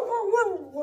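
A dog in a meme video makes a short, loud, drawn-out vocal sound that wavers in pitch like a howling bark, close up and alone for just under a second.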